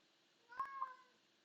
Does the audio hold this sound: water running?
no